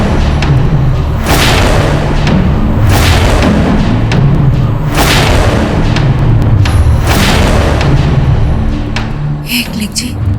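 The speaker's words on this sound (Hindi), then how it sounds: "मुगलों ने तोप क्यों चलाई और किस पे?" Cannon fire in a battle scene, a series of heavy deep booms repeating every second or two over a constant rumbling din, loud and close.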